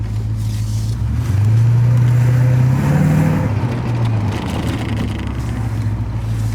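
A Porsche 928 cruises along with a steady, fairly subdued engine drone and low rumble from inside the car, pitch rising briefly as it accelerates slightly, then settling back to an even hum.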